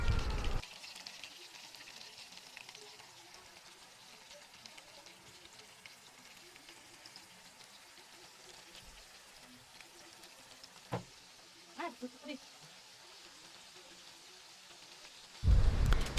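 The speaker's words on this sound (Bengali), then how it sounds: "এখন কাবাবগুলো ভালোভাবে ভেজে নিব" Beef kebabs frying in hot oil in a pan, a steady crackling sizzle holding throughout with a few brief sharper pops near the end and louder handling noise at the start and finish.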